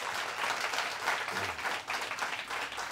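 Brief round of audience applause for a school quiz team at a spell bee contest, dense and steady clapping from a crowd over the whole short stretch, with faint low sounds underneath.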